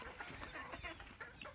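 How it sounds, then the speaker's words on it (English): Chickens clucking at a Texas ranch chicken shack, a soft scattering of short clucks at moderate distance over steady outdoor background noise. "Master McDowell is going to inspire the chickens this morning."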